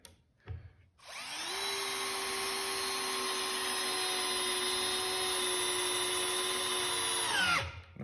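A Festool CXS drill driver at speed 1 drives a long cabinet screw, a close, steady motor whine held for about six seconds before stopping, with a brief handling clunk just before it starts.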